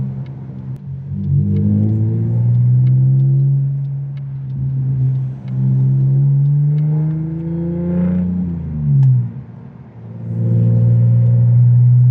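A BMW E46 driving slowly over speed bumps: a low engine hum with gear-like harmonic rises and falls, dipping briefly at each bump, close and steady without talk.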